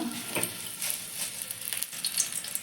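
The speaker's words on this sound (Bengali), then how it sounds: "তেলটা গরম করে নিচ্ছি এবার আমি এই তেলে একটা শুকনো লঙ্কা" A dried red chilli sizzles in hot oil during tempering for a tomato, date and mango-leather chutney, giving a steady close crackle and hiss with light stirring and no voices.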